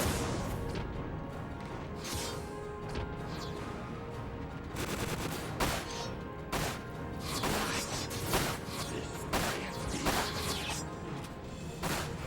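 Rapid, dense bursts of gunfire and crashing impacts from the video game Final Fantasy VII: Dirge of Cerberus, continuous and layered over game music, with sharp shots recurring throughout.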